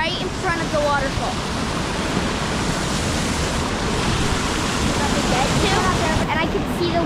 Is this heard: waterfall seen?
yes